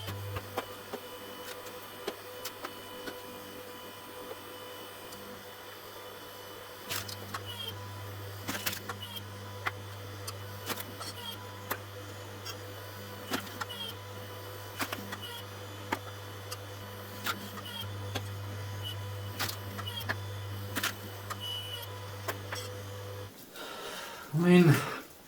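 A wood splitter machine working in snowy rural Sweden, with a steady low mechanical hum that shifts in level and is broken by scattered ticks and knocks, ending in a brief louder clatter.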